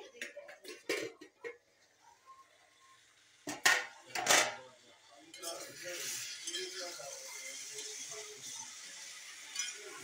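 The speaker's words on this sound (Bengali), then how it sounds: "ঢাকাটা আমি এখন উঠিয়ে নিচ্ছি" A lid comes off a cooking pot with light metallic clinks and a couple of louder clattering knocks. A steady hiss of steam or simmering follows and stays moderately quiet.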